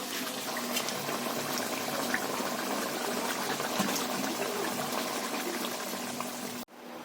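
Cooked fish curry poured and scraped out of a pan, a continuous bubbling, sloshing liquid sound that holds steady for several seconds and then cuts off abruptly near the end.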